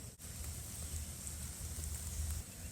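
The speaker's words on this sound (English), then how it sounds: "It's starting to rain again." Rain begins pattering outside a tent in the Texas wilderness, a steady soft hiss of drops with a low rumble beneath, continuous and fairly close.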